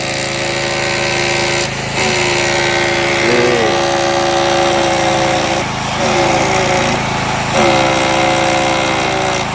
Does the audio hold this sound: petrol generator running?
yes